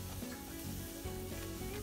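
Chopped capsicum sautés in a pan, giving a brief, steady sizzle with faint stirring and no talking.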